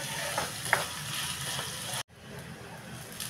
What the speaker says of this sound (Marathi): हे बघा, हे आता 2 मिनटं मी परतून घेतले.